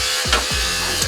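Electric hair clippers fitted with a 1/8 inch blade buzz steadily and close while trimming a beard, with a few brief strokes shifting the hum and no talking.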